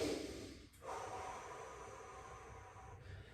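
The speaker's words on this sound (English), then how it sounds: "just 3 exhales, inhales and exhales in that position" Slow deep breathing during a yoga pose in a golf yoga workout, a long breathy exhale and inhale with a brief pause, close but faint over a soft hiss, no talking.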